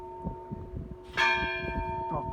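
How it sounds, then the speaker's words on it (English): Old church bells in the bell tower at Korcula ring out with a sudden loud strike over a quieter lingering hum, near and resonant, with no voices. "Really old bells they are as well."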